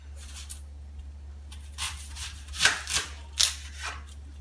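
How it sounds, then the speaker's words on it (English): Onions being cut with a knife, several crisp slicing and chopping strokes close by, bunched in the second half over a steady low hum, with no speech. "we're going to start cutting the onions"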